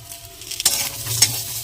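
Potatoes fry in oil in a pan with a steady close sizzle, broken by two quick scraping clicks of a spatula stirring them.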